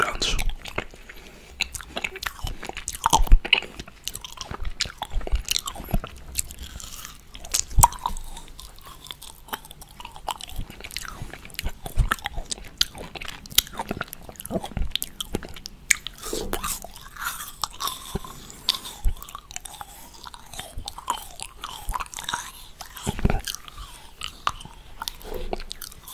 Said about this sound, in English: I really like the mandarin. It's crunchy.